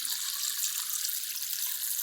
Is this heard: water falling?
yes